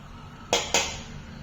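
A spoon knocks against a dish while chili powder is scooped in for cooking, giving two sharp, close clinks about a quarter second apart over quiet room tone.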